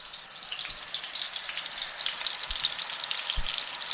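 Five hamburger steak patties browning in a hot pan give off a steady, dense sizzle with fine crackling spatter throughout, close and continuous, with a couple of soft low knocks and no talking.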